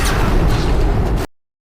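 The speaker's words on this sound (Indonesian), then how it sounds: "Di sini tabung yang dibawa Mark digunakan sebagai peledak untuk membuka jalan" A gas canister blown up as an explosive to clear a path in a film, a loud sustained blast and roar that cuts off abruptly.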